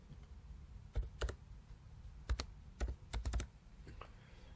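Quiet keystrokes on a computer keyboard as a multi-factor authentication code is entered, a handful of sharp clicks in short irregular clusters over a faint background hiss.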